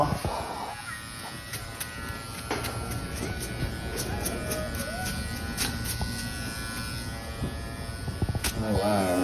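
Electric hair clippers with the guard removed buzz steadily close by for several seconds during a haircut, with occasional clicks and brief taps.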